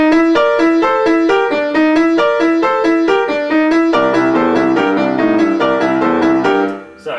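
Solo piano playing a boogie woogie right-hand lick, a continuous run of repeated notes with no break that shifts into fuller chords about halfway. The playing is loud and close, and no one speaks.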